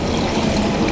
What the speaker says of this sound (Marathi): आता आपण तुम्हाला जेवढं पाणी लागतंय तेवढं पाणी घ्यायचं.